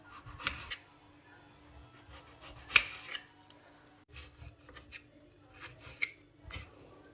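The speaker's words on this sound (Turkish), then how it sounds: "Ve bu şekilde kirbit çöpü gibi patateslerimi doğruyorum." Potatoes cut with a knife into thin matchstick strips on a board, a few soft scraping chops and slices spaced irregularly, close and fairly quiet over a faint steady hum.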